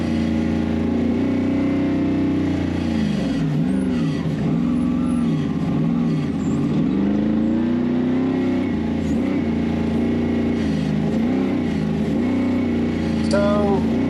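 Off-road rock racing car engine idles and revs aggressively during warm-up at a rock racing event, a loud throaty rumble rising and falling in repeated blips, with people talking over it.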